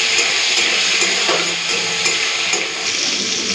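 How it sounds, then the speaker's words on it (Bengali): Sliced tomato hits a pan of black cumin and green chilli, giving a loud, steady sizzle of frying with occasional stirring and utensil scrapes close by, no voices. "কালো জিরে আর কাঁচা লঙ্কাটাকে হালকা ভেজে নিয়েছি, দিয়ে দেবো কেটে রাখা টমেটো।"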